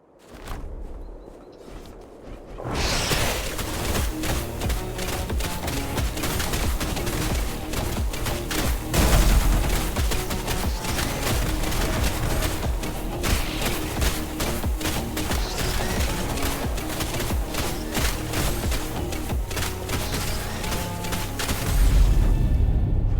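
A continuous loud barrage of explosions and booming blasts from an explosion ability in a video game, rapid and dense, starting after a brief quiet opening and running without pause.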